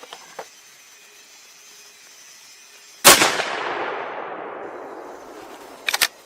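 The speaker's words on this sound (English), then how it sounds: "Then we'll go down to a clean target and we'll do a 3-shot group." A single loud, close shot from a .338 Lapua rifle cracks out and rolls into a long fading echo, followed by faint metallic handling clicks.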